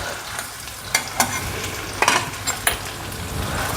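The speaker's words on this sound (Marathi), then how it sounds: "आता हा बटाटा मी छान असा भाजून घेले तुपात" Grated potato fries in ghee in a pan, a steady close sizzle broken by several sharp scrapes and knocks as a spoon stirs it, with no voices.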